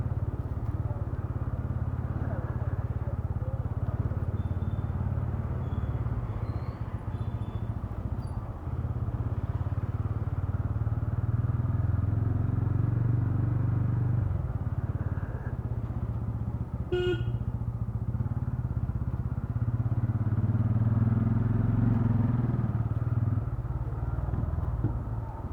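A motorcycle rumbles steadily throughout a long ride, a continuous low engine drone with road and wind noise, one brief sharp clatter partway through, and no talking.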